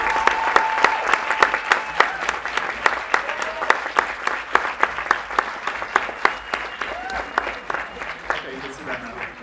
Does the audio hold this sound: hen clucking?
no